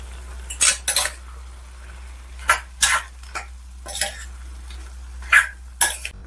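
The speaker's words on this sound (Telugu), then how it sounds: "బాగా కలిపేసుకుందామండి" A metal spoon scrapes and clinks against a pan of tomatoes in a string of quick, uneven strokes, close by, with no talking.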